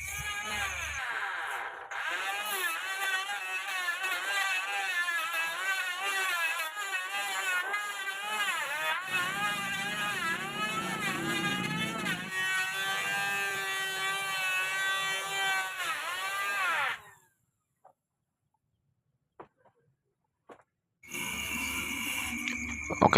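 Power planer shaving wood for a gate, a loud close whining drone with shifting tones that runs for about seventeen seconds, cuts to near silence, then starts up again.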